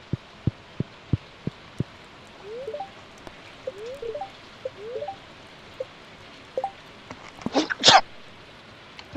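A person sneezes once, loud and close, near the end, after a run of soft rhythmic taps and short chirping sounds from a Stardew Valley game session.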